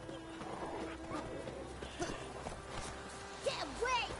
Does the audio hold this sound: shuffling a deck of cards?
no